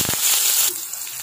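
Small onions sautéing in sesame oil with cinnamon and cloves make a bright, close sizzle with a crackling hiss that eases off slightly partway through, with no voices.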